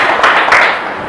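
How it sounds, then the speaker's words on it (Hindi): An audience clapping for two people being called up during a live game session, a loud, dense burst of applause filling the whole short moment. "तालियां बजाओ इन दोनों के लिए"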